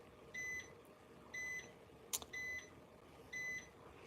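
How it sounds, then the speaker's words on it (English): A pager beeps in four short, evenly spaced bursts of high electronic tones, faint against a quiet room background, with a brief click between them. "There go my beeper."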